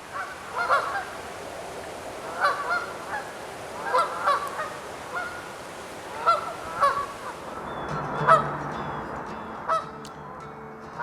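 Canada geese honk repeatedly in scattered bursts, several calls overlapping, moderately distant over a soft outdoor background.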